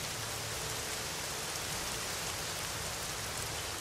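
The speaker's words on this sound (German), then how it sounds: "Wir aber hoffen, dass dieser infernalische Guss bald aufhört." A heavy tropical downpour drums down in the Pantanal wetlands, a dense, unbroken roar of rain on water and vegetation, close and uniform without letup.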